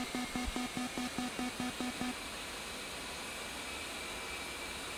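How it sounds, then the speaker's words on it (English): An A-10C jet engine spooling up in the DCS flight simulator, a steady whining roar of broadband turbine noise, with a short run of rhythmic warning beeps over it in the first two seconds. "as soon as the engine is spooled up"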